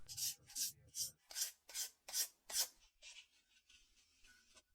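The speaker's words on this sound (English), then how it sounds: "he uses 240 grit sandpaper to fully sand the scabbard shell" Rhythmic rasping strokes of 240 grit sandpaper on the metal scabbard shell of a 110-year-old antique lighter, seven close, even scrubbing passes followed by lighter, fainter rubbing, with no voices.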